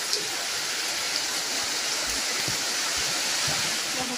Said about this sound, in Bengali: আস্তে আস্তে বৃষ্টিটা বেশি হচ্ছে